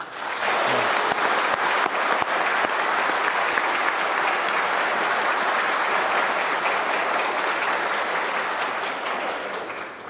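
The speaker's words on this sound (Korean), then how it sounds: "경의와 격려의 박수를 보내드립니다" Sustained audience applause fills a national ceremony marking the first North Korean Defectors' Day, a steady, dense clapping that holds loud and even for about ten seconds before easing slightly at the end, with no voices over it.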